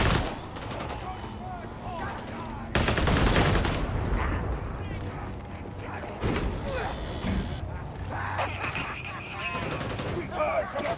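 Autogun fire in Warhammer 40k Darktide, loud bursts of rapid shots in game with mechanical clanks and creaks between them, and a voice talking over parts of the action.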